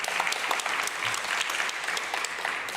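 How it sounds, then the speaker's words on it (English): An audience at a ministerial visit applauds steadily, a continuous wash of many hands clapping at moderate loudness throughout. "let's give them a big round of applause for that."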